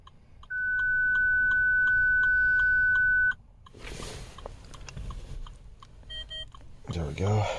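Dashboard chime of a 2008 Land Rover LR2 as the ignition is switched on: a steady electronic beep lasting about three seconds, loud and clear, followed by faint interior clicks, rustling and a brief series of short tones.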